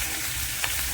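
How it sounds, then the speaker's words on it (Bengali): Eggplant pieces coated in salt and turmeric frying in leftover hilsa fish oil, a close, dense sizzle with a faint stirring scrape, no voices. "এবার দেখো এই মাছের তেলে বেগুনগুলো ভেজে নেবো।"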